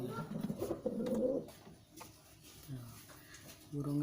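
Domestic pigeons in a loft with four chicks give low, soft, repeated coos, with people talking nearby.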